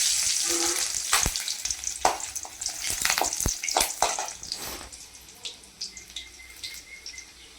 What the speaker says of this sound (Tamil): ஆயிலே நம்ம கொஞ்சம் எடுத்து வச்சுருக்கிறேன். இப்போ அதில் ஒரு 3 பல் பூண்டு போட்டுக்கலாம்.